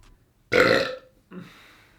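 A single loud, drawn-out burp lasting about half a second, followed after a short pause by a quieter second belch-like sound, with near silence otherwise.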